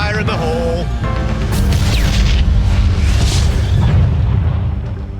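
Loud explosion in the Hitman video game (2016), a deep booming blast with rumbling low-end debris that sustains for several seconds, with faint voices underneath.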